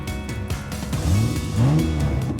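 A toy race car's engine revs with rising, sweeping whines at the start of a cardboard Barbie car race, loud and close, two surging bursts with no talk over them.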